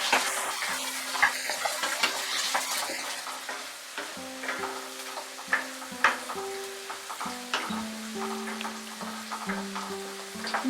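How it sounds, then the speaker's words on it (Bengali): Raisins frying in a pan over medium heat, a soft sizzle under repeated clinking and scraping of a spoon against the pan, close and fairly steady with a few louder knocks. "এবারে 1 মিনিট মতো আমি এটাকে ফ্রাই করব মিডিয়াম আঁচে"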